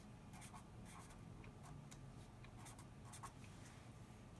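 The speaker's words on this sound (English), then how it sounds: "I will go ahead and write 10-player on a little post-it note" A Sharpie marker writing on a small post-it note, giving faint, soft scratchy strokes in short bursts over a steady low background hum.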